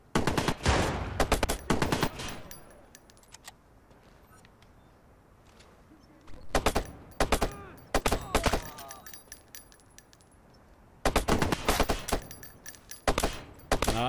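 Gunfire erupts in Watch Dogs at the Brandon Docks, loud clustered automatic bursts near the start, again around the middle and at the end, separated by stretches of quieter ambient game sound.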